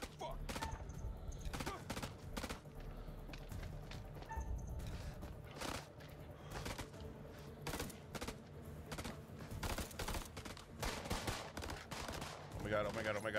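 Gunfire from the horror video game House of Ashes, with dense bursts of shots and rapid fusillades running through the whole stretch, loud and up close, mixed with game effects.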